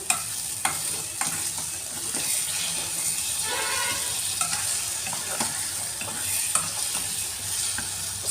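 A chicken fry masala sizzles loudly and steadily in a pan. Repeated scraping and clacking strokes of a spoon stir it throughout, and no one talks.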